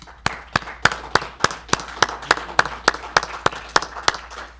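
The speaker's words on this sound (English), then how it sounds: "Let's give this panel a big round of applause" Slow, evenly spaced single claps for a panel at an agricultural expo, about fourteen sharp hand claps in a steady rhythm, fairly close, with no talking.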